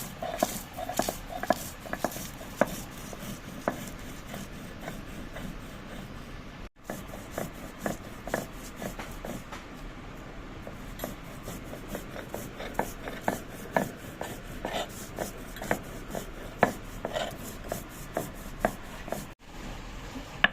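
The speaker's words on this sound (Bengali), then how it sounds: "কামরাঙ্গা আমি ভেজে রাখছিলাম, ঠান্ডা হয়ে গেছে। এখন আমি শিলপাটায় বাটে নিব।" Dried chillies being ground on a traditional stone slab and roller (shil-pata), a steady run of rough scraping and knocking strokes at close range, repeated rhythmically throughout with no talking.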